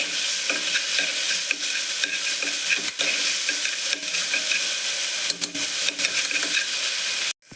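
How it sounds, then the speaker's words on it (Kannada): Chopped vegetables frying in ghee, with a loud, steady sizzle and regular scraping stirs of a spoon against the pan, ending in an abrupt stop. "ಒಂದು 1 ಮಿನಿಟ್ ಚೆನ್ನಾಗಿ ಹುರ್ಕೊಳ್ಳಿ ತುಪ್ಪದಲ್ಲಿ."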